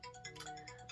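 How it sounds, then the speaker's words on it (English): A work phone ringtone chirping in short repeated bursts, faint and brief, with no talk over it. "that was just my phone ringing, my work phone ringing"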